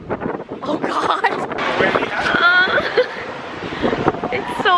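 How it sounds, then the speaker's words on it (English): Strong wind buffets the microphone in loud, rough gusts while people talk and laugh close by. "It's so windy."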